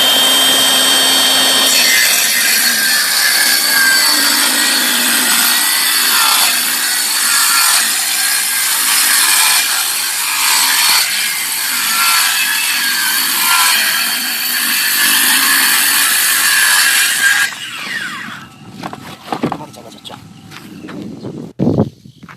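A circular saw, its blade set slightly deeper than 12mm, rips through a 12mm plywood sheet with a loud, sustained whine for about seventeen seconds. It then winds down, followed by a few scattered knocks as the pieces are handled.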